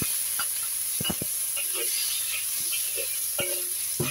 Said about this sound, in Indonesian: Kita tumis sampai lembek ya teman-teman ya.